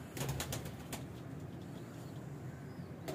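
Kasoori pigeons flutter and shuffle nearby, with a few quick bursts of wing flapping early on, then soft rustling and faint low cooing against quiet background noise.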